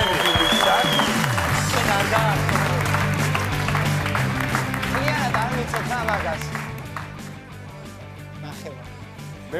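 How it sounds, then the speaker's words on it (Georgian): A studio audience at a Georgian comedy game show breaks into applause, the clapping loud at first and gradually thinning, mixed with voices and background sound. "აპლოდისმენტები"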